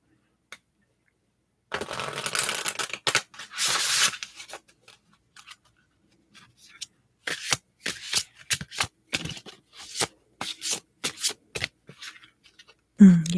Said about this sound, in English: I will also be pulling for you, Libra, one of these beautiful flower magic oracle cards.